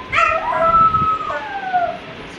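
A voice imitates a jackal's howl, a single wavering, rising-then-falling howl about two seconds long, close and fairly loud, performed alone in a school classroom activity.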